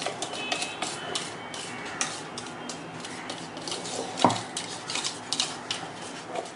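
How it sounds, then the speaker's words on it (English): Utensil scraping and tapping inside a bowl as chocolate cake batter with buttermilk is stirred, a steady run of soft clinks and scrapes with one sharper knock near the middle, close up and without talk. "I'm going to stir it for another 1 or 2 minutes."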